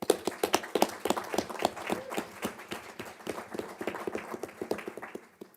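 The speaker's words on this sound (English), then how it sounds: "I'd like to get a round of applause for the referendum" A small group at a school board meeting claps for the referendum: quiet, distinct, sharp claps from a few people, rapid and uneven, thinning out toward the end.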